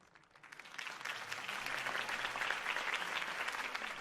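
Crowd applause at a campaign speech in the Batman Telltale game, starting softly and swelling into sustained, even clapping that stays strong to the end, with no talk.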